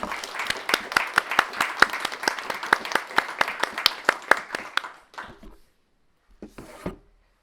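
An audience at a moot court showcase claps for the students, with sharp, fairly close claps in an irregular run that ends abruptly, followed by a few scattered late claps.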